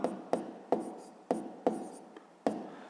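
Pen writing out a math solution on paper, a series of sharp, quick strokes about every half second, close and distinct in a quiet room.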